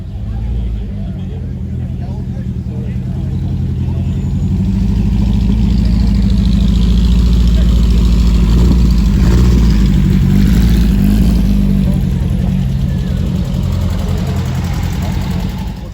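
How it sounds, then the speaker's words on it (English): A late rubber-bumper 2-litre GTV classic car engine runs steadily and swells into a fuller, revving rumble at a show, holding loud and close for most of the stretch with voices faintly mixed in. "Nice GTV, 2 litre, late one, rubber bumper."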